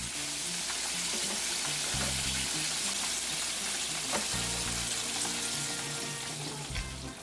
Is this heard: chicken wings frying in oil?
yes